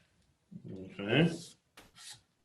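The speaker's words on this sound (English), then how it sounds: "And every time I sand, this is getting a little lighter, a little lighter. I'm not sanding real heavy." Light hand sanding on a wood surface, with a few short, soft rasping strokes following a stretch of someone talking.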